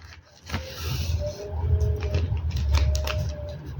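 A sewing machine stitches paper petticoat parts with a low, steady mechanical whirr that runs continuously after a brief start, plus faint clicks and light rattles up close, and no talk.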